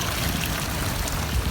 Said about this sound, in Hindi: पानी भर गया